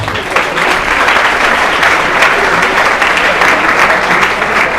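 A church congregation applauds steadily during a worship service, a dense, even wash of clapping held at full loudness for several seconds.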